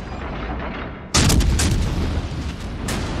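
A cruiser's naval guns in World of Warships Legends go off in a sudden heavy salvo after a low rumbling lead-in, followed by a booming, sustained roar and a second sharp blast near the end.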